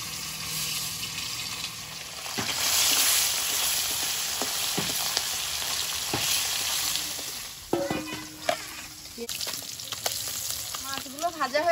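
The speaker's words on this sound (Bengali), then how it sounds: "মাছগুলো ভাজা হয়েছে" Small freshly caught fish fry in hot oil in a pan, giving a steady, close hissing crackle that swells in the middle and continues, with scraping stirs and a brief voice toward the end.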